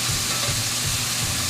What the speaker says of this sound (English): So we're going to let this sizzle up here.